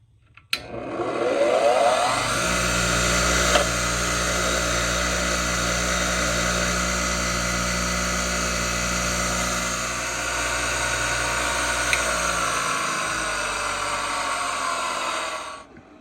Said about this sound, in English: what we're going to use to clean this out is actually a little wire wheel on a drill